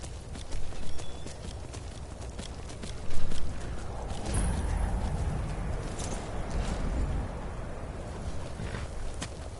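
Rhythmic hoofbeats of a galloping horse in the video game Skyrim Special Edition, fairly close and steady, with a brief louder thump partway through and a low rumbling underneath.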